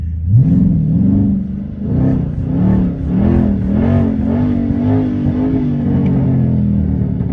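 Dodge 392 Scat Pack with a swapped Hellcat engine revving hard, deep rising and falling engine tones in repeated surges with crackling backfire pops, loud and close, no talk.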